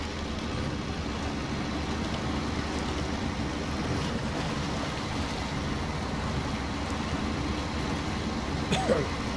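A truck plows deep through water in a video game, giving a steady, dense wash of churning water and engine rumble that holds evenly throughout with no voices.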